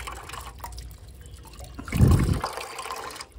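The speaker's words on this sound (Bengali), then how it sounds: "তো জল ছিল, এত স্লো পড়ছে কেন কে জানে।" Water trickling slowly into a container on a rooftop, a soft, low gurgling fill that swells briefly louder about midway before easing off.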